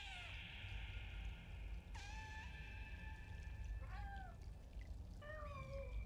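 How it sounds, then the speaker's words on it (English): A cat meows repeatedly inside the video game Stray: four high, clear meows spaced across a few seconds, close and fairly loud over a low steady background hum, with no talking. "I'm pressing B to meow."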